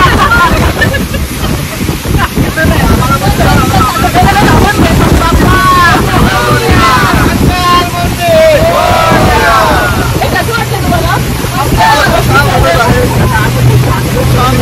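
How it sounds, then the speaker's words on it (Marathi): A motorboat running fast across open water off Abu Dhabi, its engine drone and hull rush steady under gusting wind buffeting the microphone, while people talk over it and one sings throughout. "बोट खूप फास्ट झालेली आहे"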